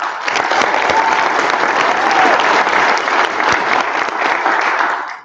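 At a school winter solstice concert, a crowd claps loud and close in a full, unbroken burst for about five seconds, then the applause cuts off abruptly at the end.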